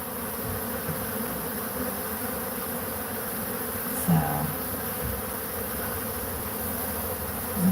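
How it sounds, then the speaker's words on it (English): Bees buzz steadily around an outdoor hive on a high knoll, a dense continuous drone with individual insects whirring close past now and then, the hum carrying on alone without talk. "a little bee action for you"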